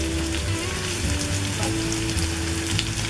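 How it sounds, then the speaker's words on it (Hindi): Onions browning in a pan with garlic just added, a steady dense sizzle of frying throughout, close and fairly loud with no talk over it. "प्याज को हल्का ब्राउन होने तक भून लेंगे। अब इसी में लहसुन डाल देंगे"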